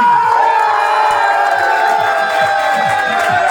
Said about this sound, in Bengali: তার জন্য বড় করে হাততালি